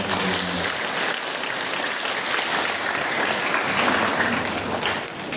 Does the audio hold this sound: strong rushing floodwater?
no